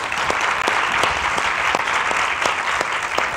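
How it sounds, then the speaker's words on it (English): A conference audience at a talk on democracy and Europe gives a warm round of applause for the speakers, a full, steady wash of clapping with a few louder distinct claps standing out. "a warm round of applause for our speakers."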